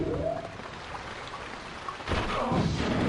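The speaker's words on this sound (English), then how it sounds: "So, you start off in this rainy place" Steady rain falls in the opening level of the shooter Daikatana, a continuous broadband hiss that swells louder partway through, with no voices.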